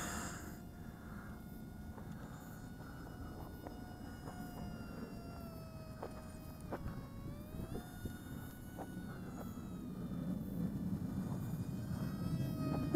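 An Attop P01 V2 three-channel RC airplane flies overhead with a thin, steady motor whine that shifts in pitch as it turns, heard at moderate distance over outdoor background noise with no talking.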